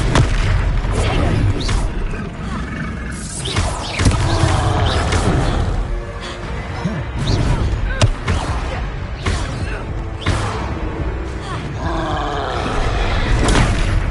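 Spell-casting effects from the Hogwarts Legacy video game, including an Expelliarmus cast, come as loud booming magical blasts and impacts in a dense, continuous battle mix with grunts, while a player voice calls out spell names over them.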